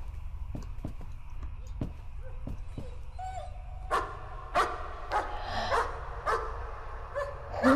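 A dog barks in the horror video game Layers of Fear, a series of short, sharp barks and yelps that grow busier toward the end, mixed with in-game noises and a voice talking.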